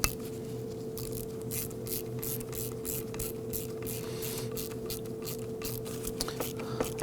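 Quick repeated ratcheting clicks as screws are snugged on a 2001-2009 Volvo S60 blower motor module, a fast, fairly faint rhythmic series over a steady low hum.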